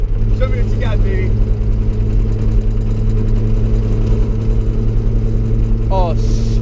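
A 1974 Datsun 260Z engine pulls steadily in fourth gear, a loud continuous low drone heard from inside the car, with occasional excited voices over it.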